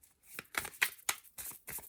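A deck of tarot cards is shuffled by hand close up, with a series of short, crisp riffling bursts separated by brief pauses.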